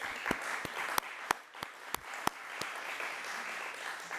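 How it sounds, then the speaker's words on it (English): Sparse applause at a prize symposium opening ceremony, with a handful of distinct, sharp claps spaced out over a quiet hall background. "A stunning collection of colleagues who I hope you will give a little applause to."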